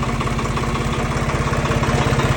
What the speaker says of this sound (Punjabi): ਕਰ ਲੈ ਟਰੈਕਟਰ ਸਟਾਰਟ